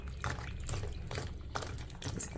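Fried lentil phulkiyan for dahi baray are dipped into a bowl of water, giving soft sloshing and splashing with faint drips, close and steady throughout.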